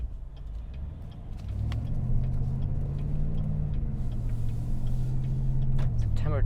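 A 2021 GMC Sierra 1500 Denali pickup rolls along a road at night, its engine a low steady rumble that builds a little as it picks up speed, heard from inside the cab.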